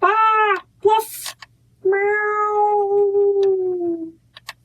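A woman reading a children's book aloud imitates a cat, giving a short meow and then a long drawn-out meow, loud and close.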